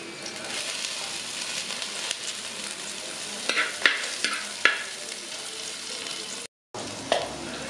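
Curry leaves sizzle in hot oil for a Kerala-style kalanchi fish curry with a steady crackle and a few sharp clinks of stirring near the middle. A brief cut comes near the end before the sizzling returns.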